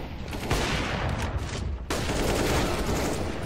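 Rapid automatic gunfire fills a Counter-Strike: GO match on the Inferno map, a loud dense fusillade of close shots that pauses for a moment and then resumes just as heavily.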